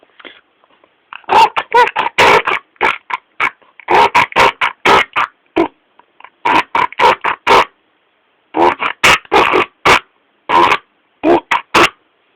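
Aardvark (ant bear) calls recorded in Zimbabwe, loud grunting bursts in rapid rhythmic series, with a pause partway through before another run of grunts, close and alone.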